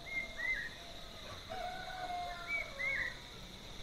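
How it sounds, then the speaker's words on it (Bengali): Birds call in the early morning around a hillside balcony in Kalimpong, giving short whistled phrases and chirps that repeat in pairs at moderate distance over a quiet steady hum. "বিভিন্ন রকমের পাখির ডাক কিন্তু আমার কানে ভেসে আসছে"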